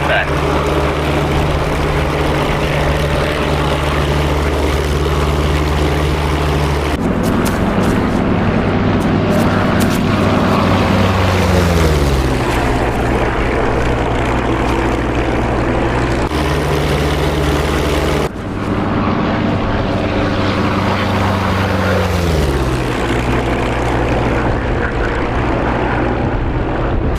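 A Huey gunship helicopter in the DCS World combat flight game, set in the 1965 Battle of Ia Drang Valley during the Vietnam War, drones loudly and steadily, with a rotor and engine pitch that drops twice, and voices talk over it.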